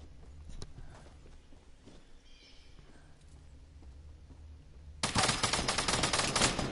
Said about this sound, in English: Oh gosh, gun shots.